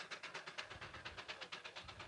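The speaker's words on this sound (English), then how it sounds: "Then they have this steam engine here" A steam engine at a steam and gas show chugs in a steady, fast rhythmic beat of regular puffs, moderately near and continuous with no talk over it.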